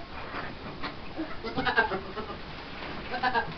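A small goat bleats in short, strained cries while giving birth, several brief calls clustered in the middle and end over a noisy barn-like background.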